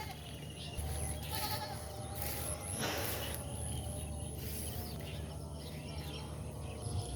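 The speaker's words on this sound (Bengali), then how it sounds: "এই যে আমার ছাগল" Goats, wet from rain, bleat faintly and in scattered bursts in an outdoor rural spot, with a low rumble and steady background noise around them.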